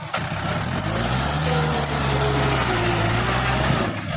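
A farm tractor engine roars loudly and continuously, its low rumble rising and falling as it is revved hard, with no voices over it.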